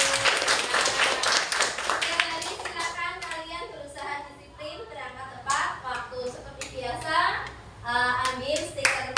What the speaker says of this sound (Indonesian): Tepuk tangan untuk Feli.